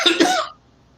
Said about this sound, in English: Excuse me, I have to cough here.